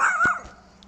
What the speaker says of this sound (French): ne vous inquiétez pas, c'est juste un chien